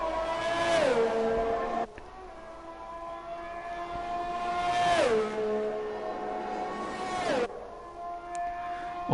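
An F1 car in a racing video game, lapping the Belgian circuit, its high engine whine rising through the gears and dropping sharply at each upshift, repeating several times, loud and close.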